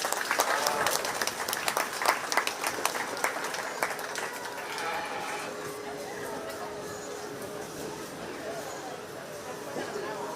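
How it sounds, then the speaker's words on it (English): Audience applause at a county fair 4-H sheep and goat show, loud dense clapping at first that thins into steady lighter clapping with crowd murmur underneath. "Let's give these kids a big round of applause."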